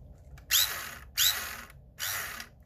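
Three bursts of a buzzing, whirring electronic zap from a vintage 1978 Kenner Star Wars toy laser pistol, each starting with a sharp rising chirp, evenly spaced with brief pauses.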